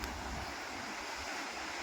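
Sea waves on the beach at Digha at dawn: a continuous, distant wash of surf mixed with wind rumbling on the microphone, steady and fairly quiet throughout.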